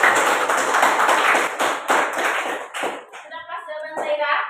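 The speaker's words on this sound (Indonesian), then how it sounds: "tepuk tangan dulu" Students applaud in a science classroom during a lesson on heat transfer, a dense burst of hand clapping that thins out, with a voice speaking at the end.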